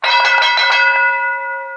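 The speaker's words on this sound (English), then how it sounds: "When the bell rings, they switch to the other topic." A single bright bell strikes once, loud and close, its clear ringing tone wavering briefly before decaying smoothly over nearly two seconds, used to signal a switch between discussion topics on a talk show.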